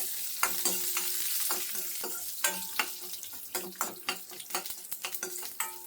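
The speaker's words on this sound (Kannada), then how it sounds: "ಸೊ ಇದನ್ನೆಲ್ಲ ಸಿಮ್ಮಲ್ಲಿ ಇಟ್ಕೊಂಡು ಸ್ವಲ್ಪ ಫ್ರೈ ಮಾಡ್ಕೊಳ್ವಾ. ಎಣ್ಣೆಯಲ್ಲಿ ಫ್ರೈ ಆಗಬೇಕು." Spices sizzle in hot oil in a pan for a coriander paneer gravy, under a soft constant fry hiss, while a spoon scrapes and clinks against the pan in quick, irregular stirring strokes, close and fairly quiet.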